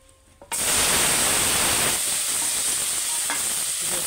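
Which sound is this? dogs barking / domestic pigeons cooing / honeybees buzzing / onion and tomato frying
onion and tomato frying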